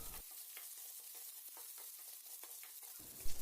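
Onion, lentils and curry leaves sauté for a cabbage fry, giving a steady bright sizzle with light stirring scrapes throughout.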